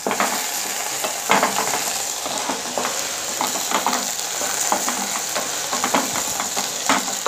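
Okra crackles and sizzles in hot oil while a utensil scrapes and stirs in irregular strokes, close and fairly loud.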